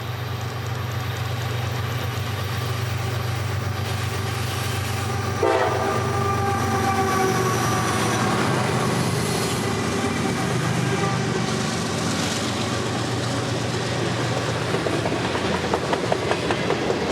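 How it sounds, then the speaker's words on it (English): CSX freight train M520 on the M&M Subdivision rounds a bend heading north at dusk, a steady rumble of wagons under a long, loud horn blast that fades into clattering cars. "This is M520, rounding the bend as they'd head north in fading light"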